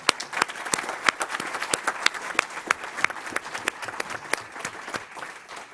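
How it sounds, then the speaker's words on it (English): An audience at a school board meeting applauds students, with a steady round of hand claps from a medium-sized crowd, dense and even for the whole stretch, fading slightly at the end. "Let's give them another round of applause"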